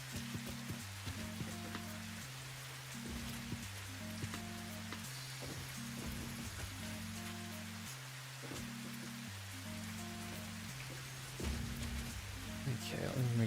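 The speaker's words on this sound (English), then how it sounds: "I love the rain sounds." Steady soft rain ambience in the game Satisfactory, a continuous hiss of drops pattering on surfaces, sitting beneath a repeating low musical tone pattern, with someone talking over it throughout.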